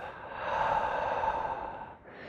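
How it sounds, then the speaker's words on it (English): A single long exhale out through the mouth during yoga breathing, a soft breathy rush that swells, holds for over a second, then fades, close and gentle. "Inhale through the nose, inhale, inhale, create space. Exhale out the mouth."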